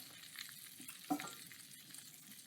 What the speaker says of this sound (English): As you can probably hear, it's sizzling.